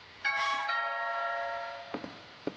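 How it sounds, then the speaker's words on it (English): A two-tone doorbell chime rings once inside a house in the game What Remains of Edith Finch, a clear ding-dong that fades out, followed by a couple of soft footsteps or knocks. "Ding dong"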